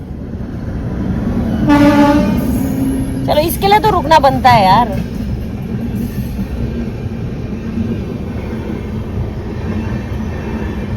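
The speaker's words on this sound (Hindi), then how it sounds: "नहीं यार, सही में ट्रेन आई है।" A train rumbles steadily past at Devprayag, Uttarakhand, while its horn blares in a few loud, wavering blasts, with people talking over the noise.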